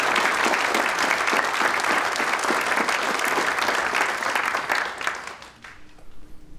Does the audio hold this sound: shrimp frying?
no